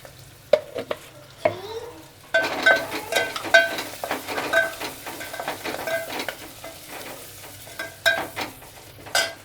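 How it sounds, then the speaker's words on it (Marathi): Spices crackle and sizzle in hot oil as a tempering for dal, a busy frying hiss with sharp pops and occasional metallic clinks from stirring, close and fairly loud, with no talking. "मस्त फोडणी बसून गेली आहे."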